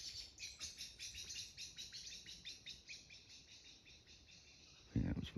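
Small birds give agitated alarm calls at a goshawk in the trees, a steady run of rapid repeated chirps and tweets from nearby branches, with a louder rustle or thump right at the end.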